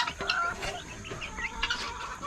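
Game chickens, with a small millefleur among them, cluck and chatter on a homestead while feed is scattered, a steady close flock murmur with brief higher calls.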